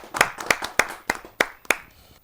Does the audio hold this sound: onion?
no